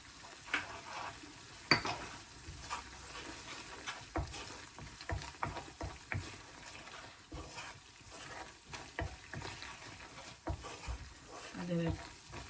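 Chicken seasoned with salt fries in a pan while a utensil stirs it, making soft scrapes and light clinks over a quiet sizzle, fairly faint and close, with no talking.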